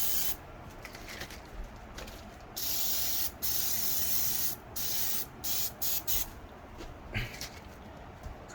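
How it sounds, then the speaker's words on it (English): Easy-Off oven cleaner is sprayed onto a greasy, baked-on basket in a series of close, hissing bursts of varying length, with short quiet gaps between them. "We're going to spray this as well."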